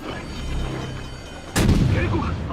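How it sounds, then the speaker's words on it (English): Naval gunfire from the Chinese warship Jianwei in World of Warships: a low drone and rumble, then one loud, close shell blast that booms suddenly and rolls on as a heavy rumble. "Taking fire from the Jianwei"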